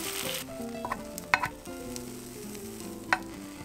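Egg mixture sizzles in a frying pan as a thick rolled omelette with spinach and carrot is poured and rolled, a steady close crackle with a few light clinks of a utensil against the pan.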